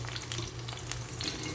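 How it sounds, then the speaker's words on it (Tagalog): An egg fries in oil in a pan, giving a steady crackling sizzle with scattered pops, close and continuous with no talking. "So, yan na yun po yung prito nating itlog."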